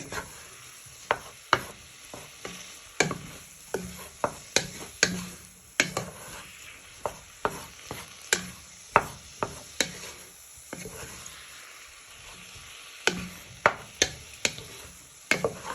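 Beef with onion, garlic, ginger and spices stirred in a hot pan for a madras curry: sharp spoon scrapes and knocks in irregular bursts over a low steady sizzle, close up with no talking.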